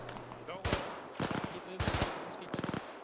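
Bursts of automatic gunfire in the military video game Arma 3, four sharp volleys spread across the clip, with distant crackle between them and no talk.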